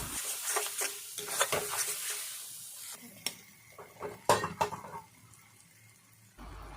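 Maggi noodles with masala stirred and fried in a pan, a soft sizzle under irregular scraping strokes and a few sharper clinks of the utensil against the pan, moderately quiet and close.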